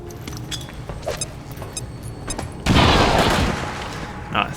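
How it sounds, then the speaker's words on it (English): A grenade detonating in the video game XCOM 2: quiet scattered clicks and small noises, then one loud, heavy blast that roars on and slowly fades. "we'll throw the grenade from heavy cover"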